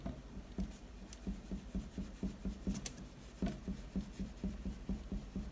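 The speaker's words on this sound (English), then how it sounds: "move my ruler over a little bit more and make me a new dot and connect them." Pencil drawing a line along a ruler, a steady run of soft rhythmic scratching strokes, close and quiet, with faint rubbing between them.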